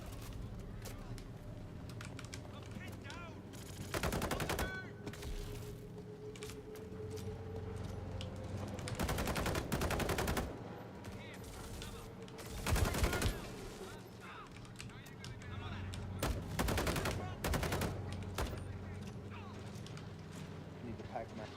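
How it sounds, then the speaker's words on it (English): Gunfire from the Star Citizen video game comes in several short, loud rapid bursts spread across the stretch, separated by quieter ambient stretches. "Suppressive fire!"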